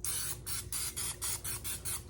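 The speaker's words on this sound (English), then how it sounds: "I'm going to spray it a little bit." Buttery cooking spray hisses from a can into a casserole pan for a baked pepper corn casserole, about eight short bursts in a steady rhythm, close and clear.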